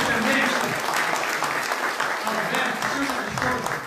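An audience claps continuously at a solemn council ceremony in a municipal chamber, a dense, steady wash of applause that stays loud throughout with voices faintly mixed in.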